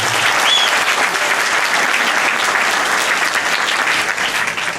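Sustained, loud audience applause at a university speech event in Turkey, a dense even wash of many hands clapping throughout with no talk.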